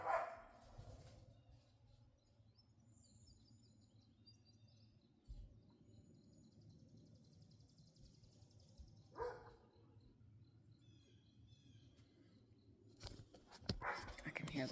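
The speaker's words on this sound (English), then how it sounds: "I can hear the dogs going at each other inside." Dogs bark at each other from inside a house, heard muffled in a few short bursts near the start, middle and end over a low steady hum, with faint birdsong outside.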